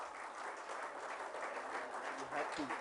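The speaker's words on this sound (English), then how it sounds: "could we please welcome him with a huge round of applause" Steady applause from an audience welcoming a guest on stage, a continuous even wash of many hands clapping throughout, moderately loud with no break.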